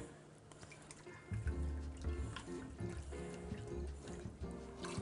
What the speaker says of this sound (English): We're going to add brandy, about 1/4 cup.